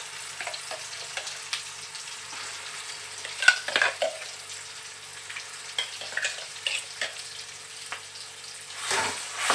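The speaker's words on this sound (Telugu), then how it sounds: "ఉల్లిగడ్డ పేస్టు, అదైతే ఈ ఆయిల్లో వేసుకుంటున్నానండి." Onion paste sizzles and fries in hot oil, with intermittent scraping stir strokes and soft crackles, close and moderately quiet throughout.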